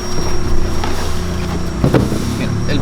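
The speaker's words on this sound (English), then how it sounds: "Alright guys, so we're gonna go with the Borla Pro XS. I like the way it sounds. It's just a little loud." A GMC truck fitted with a Borla Pro XS muffler idles with a steady, fairly loud exhaust rumble, and a brief deeper rev swells near the end.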